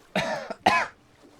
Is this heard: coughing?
yes